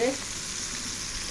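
Flour-dusted bassaria fish sizzling in a pan of shallow oil, a steady close crackle and hiss that holds at an even level throughout, with a brief stir at the start.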